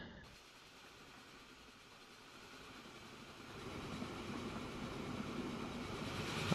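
Trains in the rail simulation game Train Fever give off a low rumble and rolling clatter. The sound swells gradually from quiet to moderately loud as they pass, with no voices.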